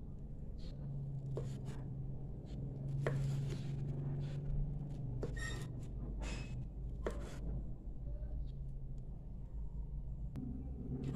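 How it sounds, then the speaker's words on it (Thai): Sharp knife strokes slicing meatballs in half tap against a cutting board in an irregular series of crisp chops and cuts, close by, over a steady low background hum. "เราจะหั่นลูกชิ้นกันก่อนนะคะ"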